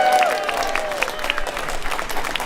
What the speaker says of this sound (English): Give a big round of applause for everybody who helps out to get this thing on the road here